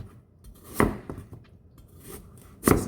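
Carrots being sliced with a knife on a cutting board: two sharp, close chops about two seconds apart, with softer knife taps and board knocks between them.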